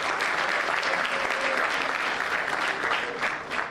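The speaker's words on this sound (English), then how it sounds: "Can we please have another round of applause?" Sustained applause from a debate audience, dense and steady throughout, loud and close, fading slightly at the end.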